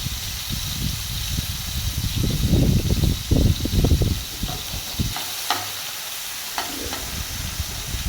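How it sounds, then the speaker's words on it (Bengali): Prawns sizzle and crackle in hot oil in a pan, with loud frying dense at first and settling into a steadier hiss with occasional pops; no talking. "চিংড়ি মাছটা এর মধ্যে আমি দিয়ে দেবো, দিয়ে আমি লাল লাল করে ভেজে নেব।"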